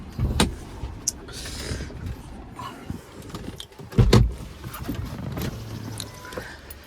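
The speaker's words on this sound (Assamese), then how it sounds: "মই আপোনালোকক আগতে ইঞ্জিনটো দেখাই দিওঁ, যিহেতু গাড়ীখন ষ্টাৰ্টেই হৈ আছে" A Hyundai i20 Asta car engine idles with a low, steady hum, broken by a few clicks and a heavier thud partway through.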